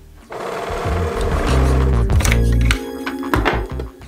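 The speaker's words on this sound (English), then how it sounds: "Probably should overlock the insides even though it's lined, just for washing purposes." An overlocker sewing machine finishes the lined insides of a dress. It runs as a loud, rapid mechanical whir for a couple of seconds, then stops and starts in shorter bursts and thunks.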